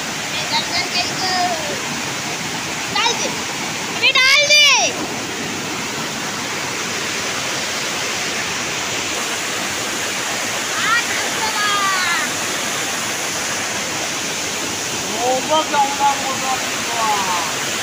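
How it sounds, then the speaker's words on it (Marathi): A waterfall roars as a steady, dense wash close by, with wind gusting over it during an outing to catch crabs at a pool, and short bursts of voices break through now and then. "मित्रांनो धबधबा बघा."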